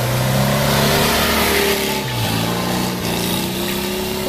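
A Volkswagen Beetle (Fusca) engine revs loudly and close for the whole stretch, holding a steady roar with small shifts in pitch, with no voices over it.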